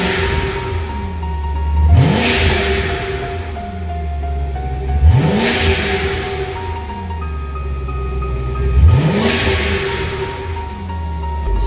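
A Corvette C7 accelerates at a regular throttle setting in three separate bursts, each a rising engine roar that swells, peaks and falls away, with a steady lower engine drone between them. No one speaks.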